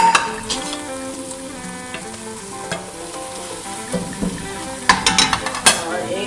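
Minced meat for aloo qeema fries in oil as ginger is added, a loud close sizzle with stirring and a burst of spoon-on-pan scraping and clatter toward the end.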